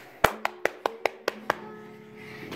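Seven sharp hand claps sound close and clear, coming quickly at first and then spacing out before stopping, over a faint steady tone.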